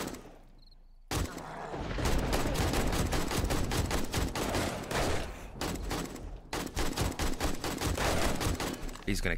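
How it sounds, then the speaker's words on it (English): Rapid bursts of gunfire in the video game 7 Days To Die, loud and close, beginning after a quiet start and continuing as dense rattling volleys with a brief break, while a voice talks over them. "What are you shooting at?"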